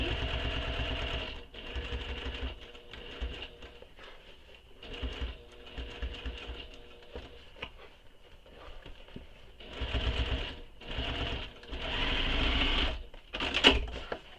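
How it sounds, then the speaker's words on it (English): A sewing machine re-stitches a curved corner on a bag, running in several uneven bursts of moderate loudness with short pauses between them, the final burst loudest. "I'm just going to re-sew this corner here, or this curve"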